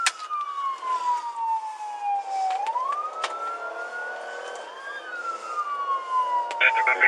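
A police car siren wails during a pursuit of a bank robber, its tone sweeping slowly down and up in long loud cycles with brief electronic yelps, close and continuous without speech.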